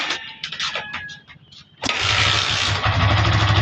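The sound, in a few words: Kawasaki Barako motorcycle being kick-started, engine starting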